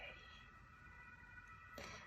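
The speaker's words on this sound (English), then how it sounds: "Why is there a siren right now?" An emergency vehicle siren sounds in the distance as a faint, steady tonal wail that holds through the clip, with a soft rustle near the end.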